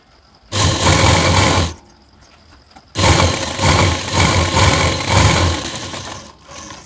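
Sewing machine stitching a fabric lining, running loud and steady in two bursts with a short pause between, its fast mechanical whir close and alone.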